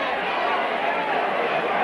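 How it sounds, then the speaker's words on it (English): A rugby league stadium crowd roars loudly and steadily as the spectators rise to their feet after a try, the dense cheering sustained throughout with no pauses. "Just look at this crowd rising to their feet."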